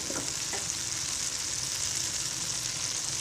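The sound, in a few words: tomato puree being sautéed in a pan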